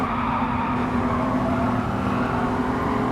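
A race car engine in Gran Turismo 7 holds a loud, steady droning note under throttle, continuous with no pauses, up close and with no talking over it.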